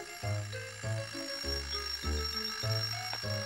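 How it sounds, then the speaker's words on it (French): A cartoon alarm clock rings in bursts, its bright bell-like tone repeating in a steady rhythm of short pulses, loud and alone against quiet background music. "Il faut d'abord que mon réveil se mette à sonner"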